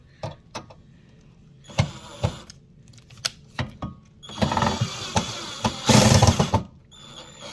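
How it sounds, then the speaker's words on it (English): A screwdriver tightening a bracket on a table-top TV stand, with a series of close clicks and ratcheting knocks, then a denser grinding, scraping burst of turning metal near the end. "now this back here, we're gonna tighten it. And again, screwdriver"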